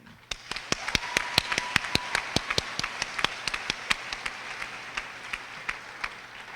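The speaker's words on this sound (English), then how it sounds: "let's put our hands together for a huge round of applause for them" An audience at an 8th grade graduation ceremony applauds, with sharp separate claps ringing out in a quick, fairly even stream over a soft steady hum and a faint held tone, and no one speaking.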